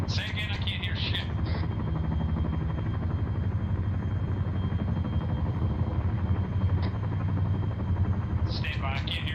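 Helicopters running their engines on a landing zone during a military field exercise, a loud, steady, throbbing rotor rumble throughout, with people's voices cutting in briefly at the start and end.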